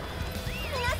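A horse whinnies in the Dynasty Warriors 9 video game, a clear rising and falling call in the second half of a brief moment over steady background game sound.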